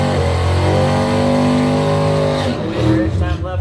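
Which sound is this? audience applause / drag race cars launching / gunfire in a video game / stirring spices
drag race cars launching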